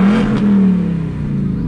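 A Ford Roush Mustang exhaust roars loud and close with a strong engine tone that rises briefly, then holds and eases slightly over under two seconds.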